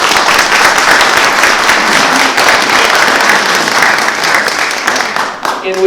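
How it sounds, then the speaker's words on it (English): An audience applauds a fire chief during a community talk, with loud, dense clapping sustained throughout and a brief dip near the end. "feel free to clap"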